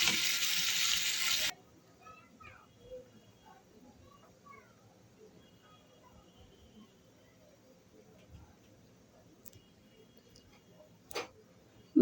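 Potatoes and prawns hit a pan of cooked spices with a short loud sizzle, then the frying drops to a faint hiss broken by sparse light clicks and scrapes of stirring.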